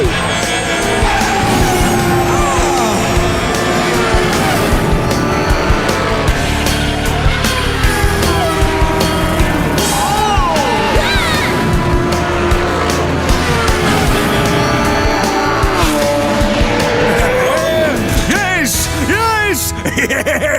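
Cartoon race cars skid and screech through a demolition derby, with tire squeals and engine noise over constant background music, swooping cartoon sound effects and bursts of character voices throughout.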